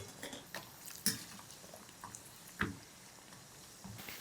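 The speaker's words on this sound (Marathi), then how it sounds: "आता यामध्ये काजू तळून घेऊया" Cashews frying in oil in a kadhai for poha chivda give a faint, steady crackle, with a few sharper pops near the start and middle.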